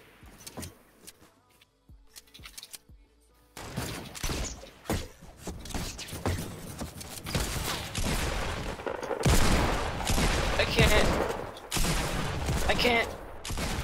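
SMG gunfire in Fortnite: rapid bursts of shots crackling over a busy mix of game noise, starting faint and sparse, then growing dense and loud, with voices talking alongside.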